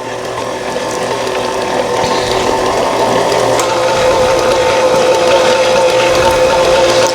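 Stand mixer running steadily on speed 2, beating box cake mix batter in a locked bowl. A continuous mechanical whirring and grinding hum stays close and loud throughout.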